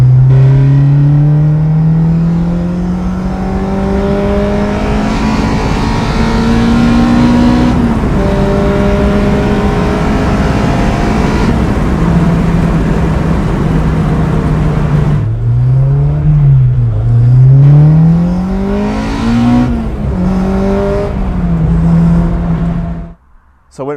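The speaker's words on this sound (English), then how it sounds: "the high revving, the noise that comes out of the engine" A naturally aspirated K20 engine with individual throttle bodies in a Honda Civic Type R EK9 revs loudly and close by, holding high and climbing in long sustained pulls with a few quick dips before cutting off at the end.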